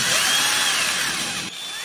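A small power drill with a 2.2mm bit enlarges the hole of an RC car's pinion gear, whirring at high speed, a steady close whine that briefly drops in pitch near the end.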